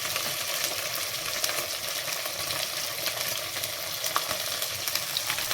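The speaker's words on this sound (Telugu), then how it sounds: "వేసుకొని అయితే బాగా బ్రౌన్ కలర్ వచ్చేంతవరకు అయితే బాగా వేపుకోవాలన్నమాట" White onions frying in a pan for boti curry, a dense continuous sizzle with faint crackles and occasional light stirring, close and steady with no voices.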